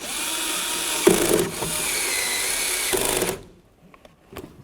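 A power tool drives bolts into a 2002-2008 Dodge RAM 1500 door with a loud, steady whir lasting a few seconds, a brief dip midway, then it stops abruptly, leaving quiet with faint knocks.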